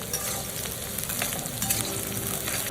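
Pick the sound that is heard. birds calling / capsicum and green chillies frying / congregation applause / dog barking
capsicum and green chillies frying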